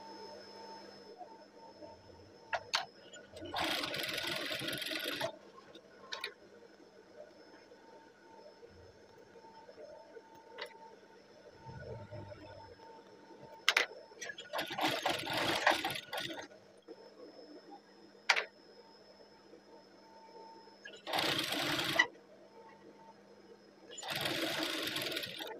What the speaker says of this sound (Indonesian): Lalu jahit di sisi yang sebelahnya atau stikan yang kedua.